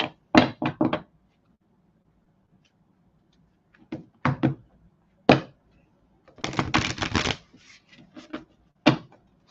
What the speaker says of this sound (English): Because I keep shuffling these cards, dear.